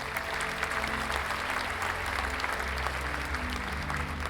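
Steady applause from a crowd, a dense continuous wash of clapping at moderate level with no pauses, used as a celebratory sound effect.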